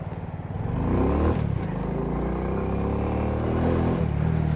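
Motorcycle engine revving during a ride, a loud close roar whose pitch climbs and dips as the throttle is opened and gears change, with steady wind and engine drone.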